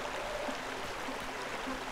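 Flowing water in the video game Cattails makes a faint, steady babbling stream that continues evenly for the whole short clip.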